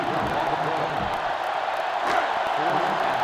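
Stadium crowd in the NCAA Football 08 video game, a steady wash of roaring fans that swells slightly midway and keeps going throughout.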